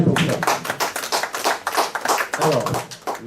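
A small audience at a press conference for a comedy show claps in a brisk, close burst of hand claps, with a few voices mixed in.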